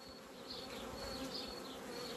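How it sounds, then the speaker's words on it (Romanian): Honeybees at a beehive, a dense, steady buzzing swarm hum with individual bees droning past nearby, continuous and fairly quiet, with no voices. "totuși e cam mult albina"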